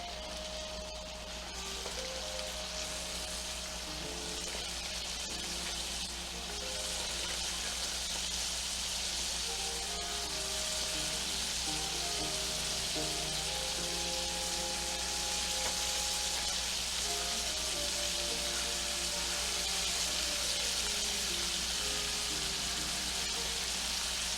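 Shrimp frying in a pan with Old Bay seasoning, a continuous hissing sizzle that stays even and steady for a long stretch under faint background tones, no talking.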